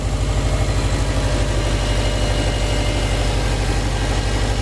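A running car engine idles steadily with a slightly noisy power steering pump, a loud, even mechanical hum and rattle close by that holds without pause and with no talking.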